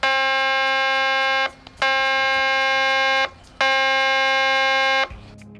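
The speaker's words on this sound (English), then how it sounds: "The second is a fire alarm," A fire alarm paging signal at a water pollution control plant blares in three long, steady buzzing tones separated by brief gaps, loud and harsh with nothing else heard.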